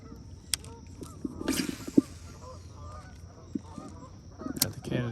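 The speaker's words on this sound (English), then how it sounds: "Got the Canada geese." Canada geese honk from a shoreline on an Ohio evening, a few scattered calls at moderate distance over quiet outdoor ambience.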